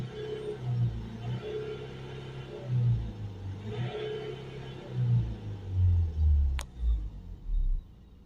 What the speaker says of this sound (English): So we're giving it some revs up and down.